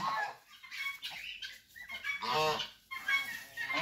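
Several geese honk in overlapping bursts, loud and near, with brief pauses between the calls.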